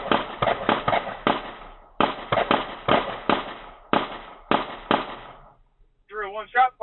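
Gunshots picked up by a police dash cam, a loud, close volley of sharp cracks in uneven bursts, followed after a short gap by a radio-like voice.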